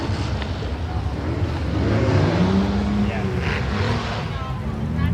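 A car engine rumbles at a figure-eight racing event, with a throaty engine note rising and falling nearby while people talk over it.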